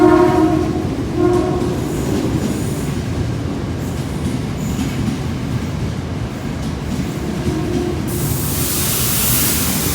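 A KRL commuter electric train rumbles loudly through Senen station in Jakarta, with a steady rolling roar of wheels on rails, horn-like tonal blasts near the start and a rising hiss toward the end, no voices.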